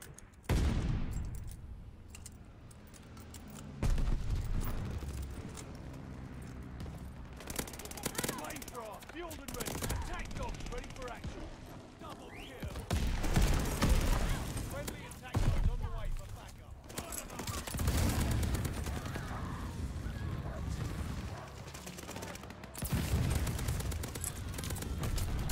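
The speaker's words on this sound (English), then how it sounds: "this MG42 literally kills in one bullet" An MG42 machine gun in Call of Duty: Vanguard fires in long rapid bursts, loud and close, mixed with other battlefield gunfire while a voice talks over it.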